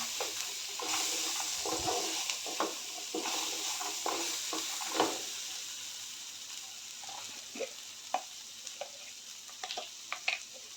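Spices, turmeric and asafoetida, being stirred into a frying pan, giving a soft steady sizzle with scattered scraping clicks and taps from the spoon, close by.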